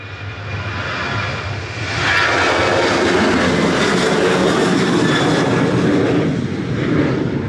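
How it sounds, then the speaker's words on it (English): An Airbus A380 at Manchester Airport gives a loud, broad jet-engine roar that swells after the first couple of seconds and holds steady as the aircraft moves on the ground nearby. "There's the A380."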